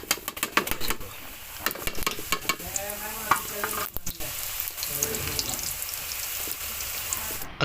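Fuchka shells frying in hot oil give a steady crackling sizzle with bursts of sharp pops and scraping stir sounds, fairly close and continuous with no voices.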